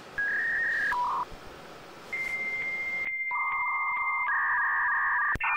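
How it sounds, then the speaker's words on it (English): An old dial-up internet modem starts a connection with a run of telephone dialing tones and beeps, then shifts into sustained pure handshake tones. The sequence is clear, steady and loud, with no talking. "Dial-up. Remember that old sound?"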